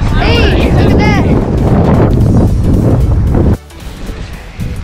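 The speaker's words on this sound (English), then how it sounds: "it's super windy" Strong wind roars and buffets the microphone while biking a palm-lined trail at Fort DeSoto State Park, a loud steady rush that drops suddenly near the end, with a voice heard briefly at the start.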